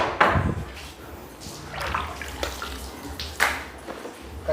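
Water poured and splashed in irregular bursts, a few sharp gushes separated by quieter trickling, with faint voices in the background.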